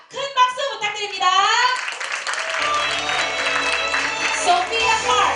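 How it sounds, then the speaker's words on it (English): An audience at a staged school English debate modeled on a G8 summit breaks into applause, a dense wash of clapping that follows a brief burst of children's voices and then holds steady, with some chatter beneath. "Please give them a round of applause."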